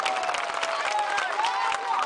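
A crowd at a political rally in Bihar applauds with dense, sustained clapping that stays steady throughout with no pauses.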